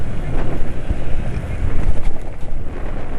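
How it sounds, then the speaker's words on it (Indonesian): A motorcycle engine running on Upsol Impero 4T oil gives a steady, close, low rumble with an even texture throughout and no talking. "yang jelas suara mesin ya lebih halus lah daripada merek Pardal"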